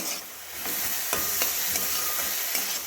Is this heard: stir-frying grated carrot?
yes